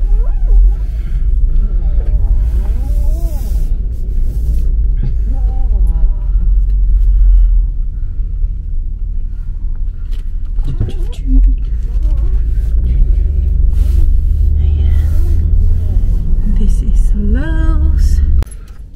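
A car drives along a road between stores, with a steady low engine and road rumble throughout and faint voices in the cabin.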